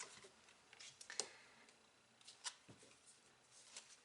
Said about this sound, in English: let me finish off my shuffling.